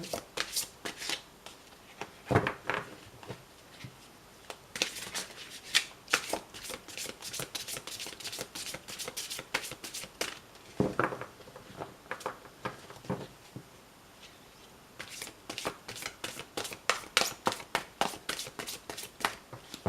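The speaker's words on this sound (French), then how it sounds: "je coupe et je prends la première carte ici en suivant" A deck of tarot cards is shuffled and cut by hand, giving quiet, close riffling bursts and soft flutters in several spells separated by brief pauses.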